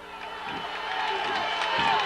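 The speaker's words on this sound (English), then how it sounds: "The crowd trying to cheer the Norristown Eagles on" A football crowd at a 1998 Norristown Eagles high school game against Truman roars steadily, a broad wash of cheering that swells slightly toward the end, with a few thumps and a commentator's voice running beneath.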